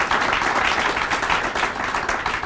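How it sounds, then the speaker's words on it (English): Sustained audience applause at a public meeting on transit-oriented development in Prince George's County, a steady, dense wash of many hands clapping at even loudness throughout. "Can we give him a round of applause?"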